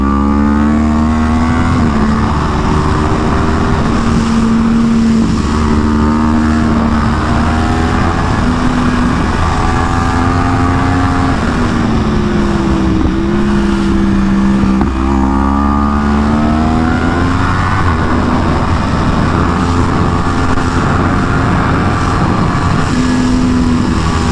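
A 2015 Yamaha YZF-R1 race bike set up for the track roars continuously up close, its engine pitch climbing and dropping as it accelerates and shifts through corners, with no talking.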